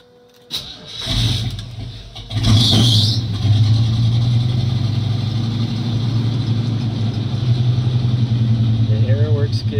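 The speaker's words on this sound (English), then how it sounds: "I'm going to do a cold start with my 1985 Chevy K10, four-wheel drive, square body pickup" A 1985 Chevy K10 four-wheel-drive square-body pickup cranks and fires up on a cold start, then settles into a loud, steady, close rumbling idle.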